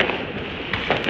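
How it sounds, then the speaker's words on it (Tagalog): Firecrackers go off during the last day of Chinese New Year, a dense, noisy crackle with a few sharper pops standing out, heard from some distance. "Vlog natin itong mga paputok nila"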